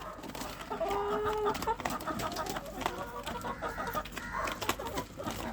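Several chickens cluck and murmur nearby in an uneven, continuous chatter, with a few louder calls standing out.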